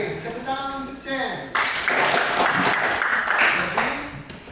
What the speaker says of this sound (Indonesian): Tepuk tangan untuk Chen